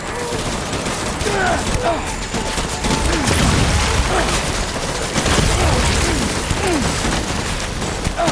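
Gunfire in the video game Death Stranding, a dense, continuous barrage of rapid shots and booms with mechanical clatter, loud and sustained throughout.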